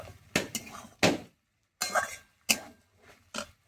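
A spatula stirs fish roe fritters into cabbage in a pan, making a handful of separate clinking scrapes and taps against the metal, close and fairly quiet, with short pauses between strokes.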